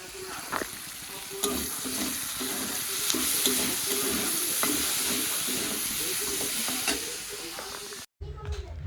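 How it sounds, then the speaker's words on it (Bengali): Food sizzles and fries in a pan while being stirred during home cooking, with steady hiss and irregular scraping stir strokes up close, a brief cut near the end. "তাড়াতাড়ি করে রান্নাটা করে নিচ্ছি।"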